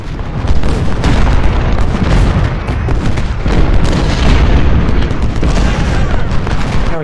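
Loud artillery booms and rolling musket fire from the Civil War strategy game Ultimate General: Civil War, set at the Battle of Fredericksburg, pound one after another in a dense, continuous barrage.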